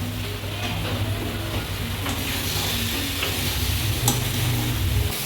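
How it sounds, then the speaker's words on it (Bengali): Spices and peas being sautéed for bhugni, a continuous close sizzle with soft intermittent stirring scrapes and a low steady hum underneath. "মশলা কষানো হচ্ছে। এই যে এখন মটরগুলি দিয়ে দিচ্ছে। এখন আবার কষাবে।"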